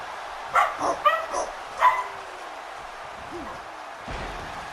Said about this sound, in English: Apparently they like to bring their dogs to their events here in Germany.